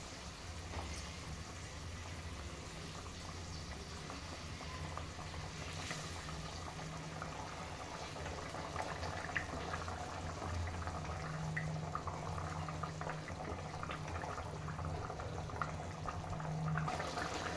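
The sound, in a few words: fish curry broth boiling in a pan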